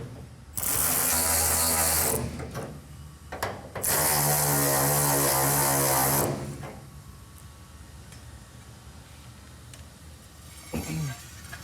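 Air ratchet tightening bolts on a 1971 Plymouth Road Runner with a 440 six-pack and four-speed, two loud sustained rattling bursts followed by quieter clicks and handling noises.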